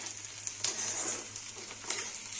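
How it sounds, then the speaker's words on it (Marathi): Onion frying in a pan until browned red, for a misal bhaji: a steady, crisp sizzle up close with occasional stirring scrapes and pops, fairly quiet, no talking. "तर बघा आपला कांदा असं चांगला लाल रंगावर भाजत आलाय"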